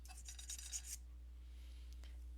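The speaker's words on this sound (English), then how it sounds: "I'm going to file this just a little bit just to get it there a little bit faster" A metal file rasps at a joint on a craft piece in a few quick strokes, close and fairly faint, followed by a low steady hum with no talk.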